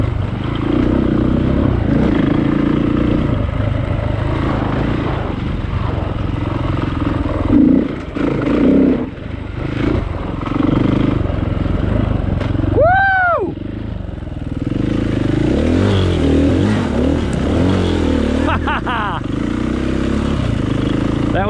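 Dirt motorcycle engine running steadily on a wooded single-track trail in Georgia, with continuous mid-pitched drone, throttle rises and clattering over rough ground; a brief whine-like sweep near the middle, and talk appears to run under it.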